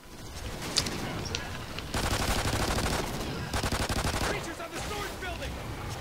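A pistol fires in Call of Duty Extinction, with quick repeated shots in short volleys over steady in-game background noise while players talk quietly.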